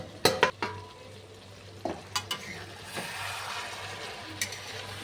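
Vegetables with fish head being stirred in an open pan, soft sizzling simmer broken by several sharp clinks and scrapes of the spoon against the metal, fairly quiet and without talk.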